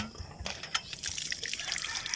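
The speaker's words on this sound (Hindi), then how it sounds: "ये हमें एक नलका मिला है, बड़ी मुश्किल से मिला है। यहाँ पानी पीते हैं" Water runs from a village hand pump tap outdoors, a continuous close splashing trickle with scattered drips, fairly quiet and with no voices.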